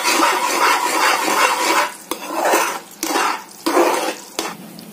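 Food stirred with a couple of spoonfuls of ghee in a pot gives close scraping, rustling sweeps in uneven bursts, broken by sharp clicks of the spoon against the metal.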